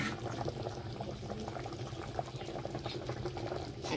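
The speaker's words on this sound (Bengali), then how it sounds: "একদম টকবক টকবক করে ফুটছে। বেশি করে জল দিয়েছি, ফুটে একদম অর্ধেক করে নেবো।" A pot of meat in plenty of water boils hard, a steady low bubbling and rumbling that holds at an even, fairly quiet level with no talking.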